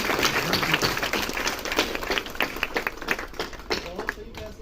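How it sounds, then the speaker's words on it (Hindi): An audience at a two-day seminar in Malerkotla applauding an award presentation, a scattered patter of clapping that thins toward the end, with a voice talking over it. "सब तालियां हो जाए।"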